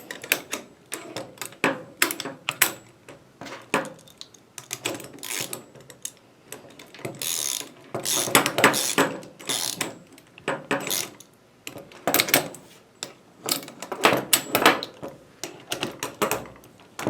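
Bolt being tightened by hand during flat-pack kit assembly, a long run of close, irregular ratcheting clicks and metallic taps that come in bursts of varying loudness, with no talk.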